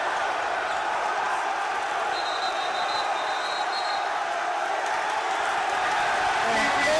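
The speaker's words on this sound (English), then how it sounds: "This place is roaring." A gym crowd roaring at a high school basketball game, Bellarmine versus St. Francis, a dense, loud, sustained wall of cheering and shouting with no break.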